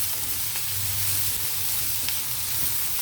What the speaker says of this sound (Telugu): ఈ ఉల్లిపాయలతో పాటు ఎండ్రాయిలు వేగుతూ ఉంటాయి